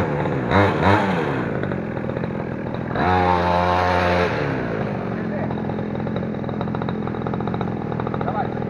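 A children's 49cc mini motorcycle engine starts and revs, with buzzy two-stroke-like bursts rising and falling near the listener, then settles into a steady idle drone as people talk over it.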